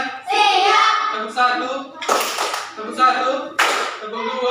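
Children in an Indonesian classroom clap in short, loud bursts of rhythmic hand claps, with young voices chanting in between.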